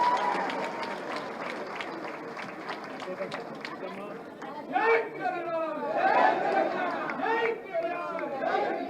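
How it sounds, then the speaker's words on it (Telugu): A crowd claps at a BRS political rally during a woman activist's speech, with scattered applause in the first half mixed with a loud speaking voice that continues throughout. "గట్టిగా చప్పట్లు కొట్టు."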